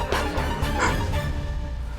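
A dog gives a couple of short, close barks followed by a fading whimpering tone, heard loud and near against a low background rumble.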